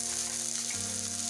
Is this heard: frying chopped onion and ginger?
yes